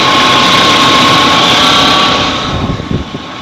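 A Volvo 240 idles loud and close after a cold start in snowy weather, a steady engine drone with a thin whine on top that eases slightly near the end.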